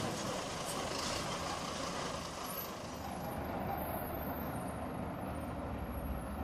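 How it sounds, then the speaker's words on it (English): A tanker truck built to haul liquids and gases rumbles by with a steady, loud engine roar and broadband road noise that holds throughout, with a faint hiss near the end. "like this tanker truck"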